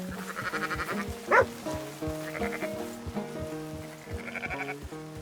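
Sheep bleating in a flock in the video game Red Dead, several overlapping bleats coming and going at moderate distance over a steady background of rain, with no talking.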